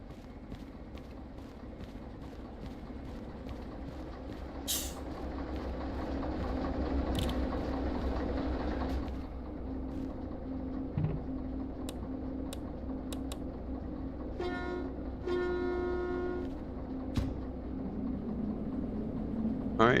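DK4 diesel locomotive running in the train game Derail Valley: a steady low engine rumble with rapid mechanical clicking and clattering on top, plus occasional brief tonal beeps and knocks, moderately quiet and continuous.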